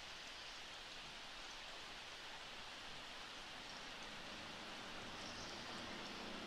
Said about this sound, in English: It's raining on Easter.